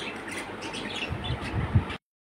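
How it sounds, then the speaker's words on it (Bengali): A pet bird squawks in short bursts indoors, with a sharp loud call near the end over low household background noise. "এই দেখো পাখি, দেখো আমাদের পাখি।"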